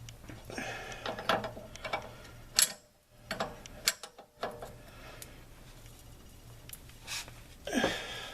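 A ratchet clicks in short bursts while tightening stabilizer bar links on a 2013 Chevy Avalanche, close by, with pauses and scattered mechanical clanks between strokes.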